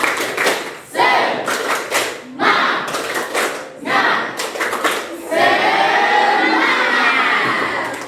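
A classroom of children doing the tepuk semangat spirit clap, loud bursts of rhythmic clapping and chanting voices in several short rounds, ending in a longer stretch of cheering and shouting.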